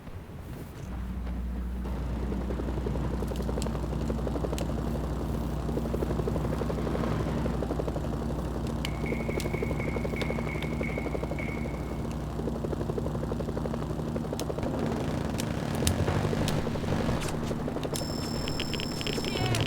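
A helicopter flies in the video game Mercenaries: Playground of Destruction, its rotor giving a continuous, loud, throbbing drone for the whole stretch, with brief electronic beeps partway through.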